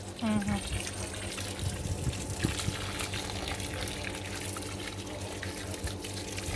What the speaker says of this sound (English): Make it a good soaking to go all the way down.